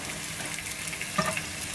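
Gluten-free onion rings frying in hot oil, a steady close crackling sizzle with a brief louder bubbling burst as the rings are turned, no talking.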